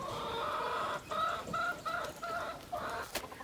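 Hens cluck outdoors in a run of short, nasal calls, fairly close and repeated every half second or so, with a quiet background of other farm sounds.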